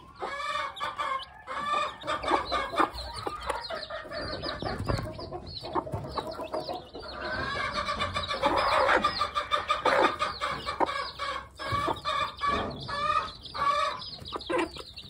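Several Dominique chicks cluck and chatter continuously at close range, overlapping soft calls with occasional louder squawks, no talking.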